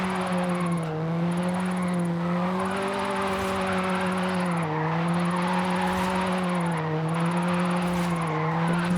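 Stock engine of a 1985 Toyota Sprinter Trueno in Forza Horizon 5, droning steadily at a constant pitch with slight rises and dips in tone, loud and continuous throughout with no talking.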